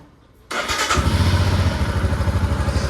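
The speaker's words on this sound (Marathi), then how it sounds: "आपण आता पहिले गाडीला कोल्ड स्टार्ट मारूया" A motorcycle is cold-started: after a brief near-silence a starter clatter catches and the engine fires into a loud, steady, throbbing idle close by.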